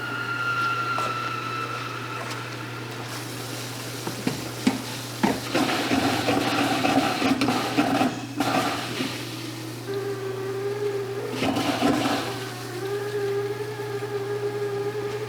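Water runs into a Splendide washing machine with a hiss and rush, joined by tonal whines and hums of the machine, plus a few clicks and knocks along the way.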